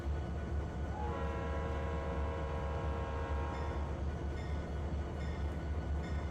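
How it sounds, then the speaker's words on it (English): A sustained multi-tone diesel locomotive horn in Trainz Simulator 3 sounds for about three seconds over steady low engine rumble, followed by continued rumbling and a few faint clanks. "Alright, so the horn."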